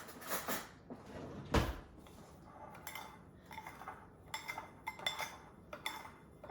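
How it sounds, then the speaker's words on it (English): A citrus mixture being stirred in a pan brings a string of metallic clinks and scrapes from a utensil against cookware, coming in irregular bursts with quiet gaps between. "We are going to stir this up."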